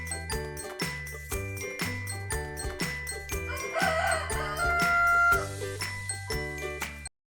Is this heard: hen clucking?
yes